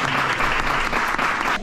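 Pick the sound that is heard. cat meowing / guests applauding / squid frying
guests applauding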